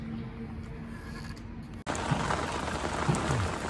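Rain falling outdoors in Klaipėda on a hot summer evening, a steady close hiss of drops that jumps louder midway after a brief cut, continuing evenly with no talk.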